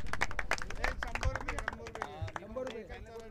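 Clapping from spectators at a local cricket match, cheering a fine piece of fielding; sharp, irregular claps ring out near and fairly loud under a voice talking over them.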